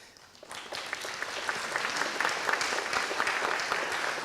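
An audience at a Peralta Colleges Flex Day gathering breaks into applause, rising quickly from quiet into sustained, even clapping that carries on alone without talk.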